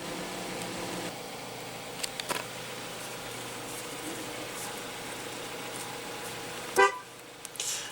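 A 2016 Jeep Cherokee's 2.4 L inline four-cylinder idles in a faint, steady hum. A short horn-like toot cuts in near the end.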